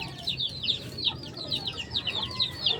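Close by, an 11-month-old sweater gamecock rooster gives a run of soft, repeated clucks in quick succession, alone with no talking.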